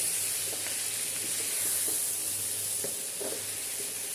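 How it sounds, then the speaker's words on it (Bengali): Mixed vegetables frying with spices in oil for a Bengali panch mishali sabji, a steady soft sizzle with a few faint stirring scrapes, close but fairly quiet. "নিয়ে এবার সব সবজিগুলোর সাথে মশলাগুলো ভালো করে নেড়ে মিশিয়ে একটু ভেজে নেব।"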